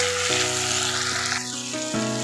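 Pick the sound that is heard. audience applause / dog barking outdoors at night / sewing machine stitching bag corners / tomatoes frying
tomatoes frying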